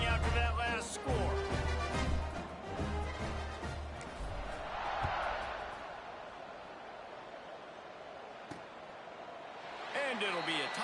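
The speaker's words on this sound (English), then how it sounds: "this crowd is buzzing after that last score" Crowd noise from a stadium in a college football video game, a broad steady roar that swells and fades slightly, with commentators talking over it and a few sharp knocks.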